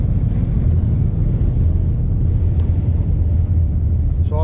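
A car travels down a road under a bright, cloud-covered sky, its engine and tyre rumble a steady, loud, close drone throughout with no pauses.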